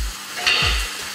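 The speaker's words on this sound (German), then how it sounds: "die Stückchen, die brate ich auch noch mal ganz kurz an" Small pieces of meat sizzle as they are briefly seared in a hot pan for a German currywurst sauce, with a steady close crackle, a few stirring scrapes and no talk.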